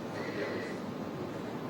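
A horse whinnies amid a dense, noisy wash of sound from old footage of historical horse racing, with faint hoof clatter in the background.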